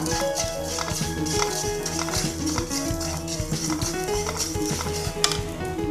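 Green chilli, ginger and garlic sautéing in a pan sizzle steadily under rhythmic clinks and scrapes of a spatula stirring against metal, all close up.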